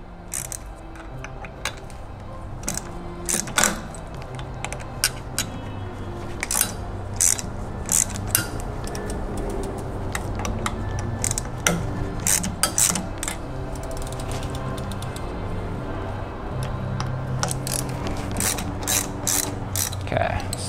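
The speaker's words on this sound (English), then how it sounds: "I'm actually going to use the crank arm while I have it on there to break these guys loose, the chain wheel bolts." Wrench or ratchet clicking repeatedly as chain wheel bolts are broken loose on a BBSHD e-bike mid-drive motor, using the crank arm for leverage; sharp metallic ratchet bursts recur close-up over a steady workshop hum, with no talking.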